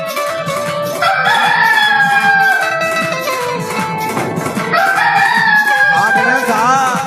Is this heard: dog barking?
no